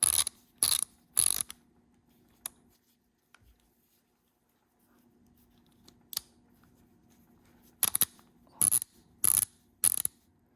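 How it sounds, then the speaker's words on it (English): A Craftsman 1/2 inch ratchet being worked by hand, sharp bursts of clicking in short separate groups at the start and end with a quiet gap between, close and crisp. "this Craftsman pointed A ratcheting device"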